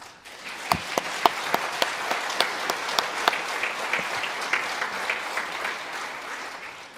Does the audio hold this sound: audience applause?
yes